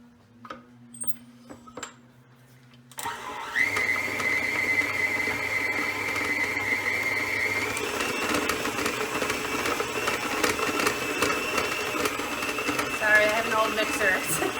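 An electric stand mixer beats chocolate brownie batter of flour and cocoa powder, starting abruptly after a quiet moment and then running loud and steady with a clunky, rattling whine that holds to the end.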